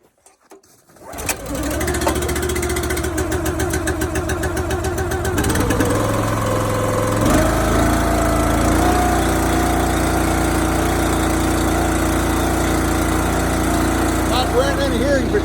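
A Husqvarna chainsaw is pull-started, catches after a second and runs loud and close at a steady idle with a faint revving change partway through; no talk is heard.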